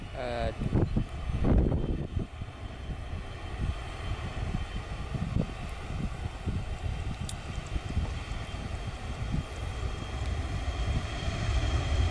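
An Air Fast Indonesia Boeing 737 taxiing after landing at Blang Bintang airport. A steady jet engine roar is heard from nearby alongside wind noise, with a brief louder swell near the start.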